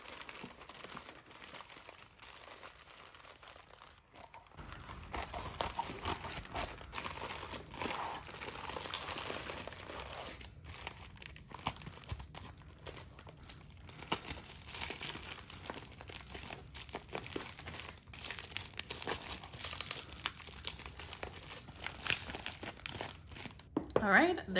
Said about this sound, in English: How I've been doing these is wrapping them in paper and then a ton of bubble wrap